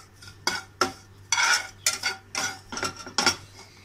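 Spoon scraping and clinking against a pan while neem flower fry is stirred, a series of distinct sharp metallic strokes at an irregular rhythm, close and clear with no voices.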